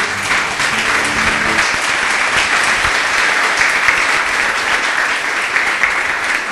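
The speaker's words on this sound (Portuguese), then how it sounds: "Louve a Deus com suas palmas, bem forte." A church congregation claps loudly and steadily for several seconds, a dense, continuous burst of applause.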